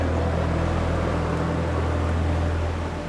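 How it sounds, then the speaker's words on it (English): A deep, steady motor drone with a low throbbing hum, loud and close, holding constant for a few seconds. "I heard the roar of a boat again"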